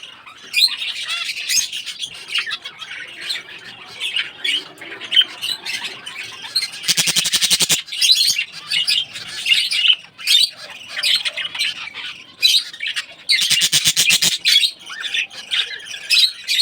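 Small pet lovebirds squawk and chirp busily while eating soft food, shrill calls coming close and continuous with bursts of rapid chattering.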